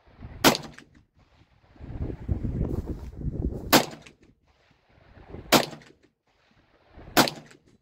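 A Smith & Wesson M&P 22 Magnum fires four separated shots outdoors, each one a sharp crack at steady intervals. Bullets strike targets between the shots, one of them ricocheting, under a low rumble of wind and handling noise.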